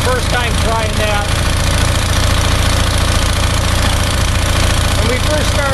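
A small engine runs on gas from a homemade charcoal gasifier, its steady loud idle churning with a low knocking pulse throughout and no pauses.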